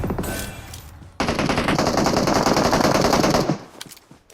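M4 rifle fire in a video game, an opening string of shots followed by a long, loud, sustained automatic burst, then a few scattered shots as the firing tails off.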